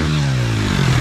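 A motorcycle engine roars loud and close during a 30-metre jump attempt, the steady drone dipping slightly then swelling again in a short burst with no talk.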